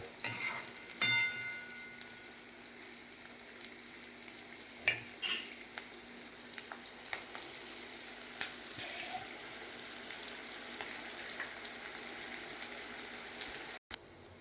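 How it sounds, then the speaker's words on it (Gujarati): Onions cook in a pan for a Gujarati garlic curry, a soft steady sizzle with occasional spoon taps and stirring knocks, fairly quiet with no talk. "ડુંગળીને આપણે પાકવા દઈશું થોડીક વાર"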